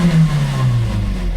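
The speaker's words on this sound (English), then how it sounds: "See, it revs fine." A close, loud 2004 Nissan Frontier pickup engine revs up then settles back down, a deep rumbling drone lasting just over a second.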